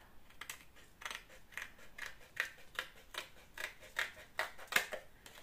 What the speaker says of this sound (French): Ensuite, on va prendre notre boîte de dentifrice et je vais venir couper cette partie-là.